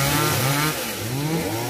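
A chainsaw cuts through branches of an old perennial tamarind tree, its engine droning steadily close by with a slight dip in pitch midway as the blade bites into the wood.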